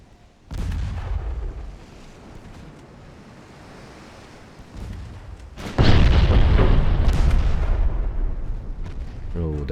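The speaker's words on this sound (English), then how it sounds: "Solid 9-inch hits and a 12-inch hit for my battleships." Naval battleship shells of 9-inch and 12-inch calibre striking in a video game, heavy booming impacts over a rumbling sea-like roar, with a loud burst midway that keeps roaring to the end; a voice talks at times.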